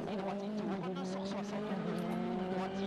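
Rally car driven by Neuville launching onto a wet special stage road at the Rallye de France 2013 on cold tires, its engine note steady and droning at moderate distance, with commentators talking over it throughout.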